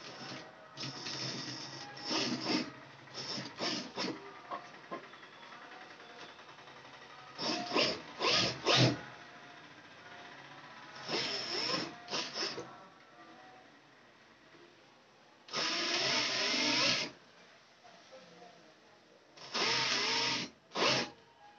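A sewing machine stitches dori piping onto a blouse in short bursts of rapid whirring, each run lasting a second or two and separated by quiet pauses, one longer run near the end.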